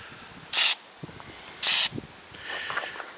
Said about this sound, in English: It's quite fine spray.